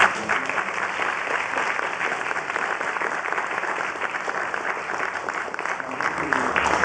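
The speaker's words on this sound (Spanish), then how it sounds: "Pido un aplauso" An audience claps at a university lecture on art and decolonial aesthetics: sustained, dense applause that holds a steady level across several seconds with no break and no speech over it.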